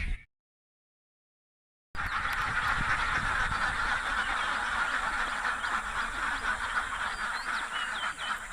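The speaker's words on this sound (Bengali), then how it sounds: "এটা একটা ছোট একটা হাঁসের farm pack pack pack pack করতেছে" After a brief silence, a flock of ducks at a small duck farm quacks and honks continuously nearby, many birds calling over one another in a busy chorus.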